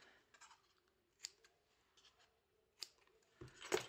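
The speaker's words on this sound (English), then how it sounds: "Want to trim the ends," Scissors trimming the ends of paper for an Easter treat box, a few quiet close snips spread across a few seconds, with a louder burst of cutting at the end.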